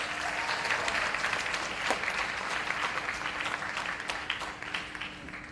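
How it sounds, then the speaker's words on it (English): Sustained applause from an audience at a performing arts awards ceremony, a steady dense wash of clapping that stays loud for the whole stretch without a break. "I ask that once more you give them a round of applause"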